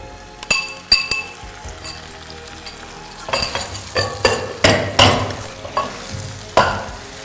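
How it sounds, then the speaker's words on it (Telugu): Marinated chicken goes into a pan of frying garlic: a few metal clinks, then loud bursts of sizzling that surge and fade as the pieces are stirred, close up. "మ్యారినేట్ అయిన చికెన్ దీంట్లో వేసేయాలి."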